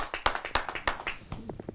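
At a Hindi open-mic kavi sammelan poetry gathering, a small audience claps in a handful of sharp, uneven claps that thin out as a voice begins speaking.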